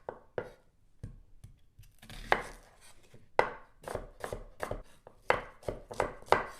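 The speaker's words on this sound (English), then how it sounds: "I'm just going to do a straight cut here" A knife chops papaya on a cutting board in a series of irregular, close, crisp thuds and taps, quickening toward the end.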